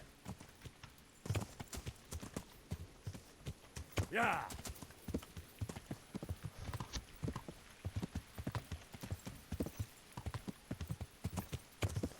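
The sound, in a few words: horse clip-clopping in the video game Kingdom Come Deliverance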